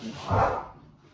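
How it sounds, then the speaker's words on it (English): A dog lets out a single short, muffled bark as the post arrives, indoors and moderately loud, fading quickly. "That is my dog with the post."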